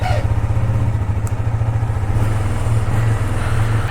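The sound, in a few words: KTM Duke motorcycle cold start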